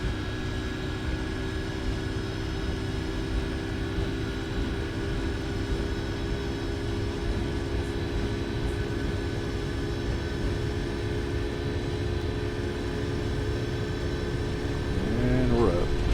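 Engines of a Flight Factor 757 airliner roll for takeoff in a flight simulator, a steady loud droning roar with sustained tonal whine that swells slightly toward the end.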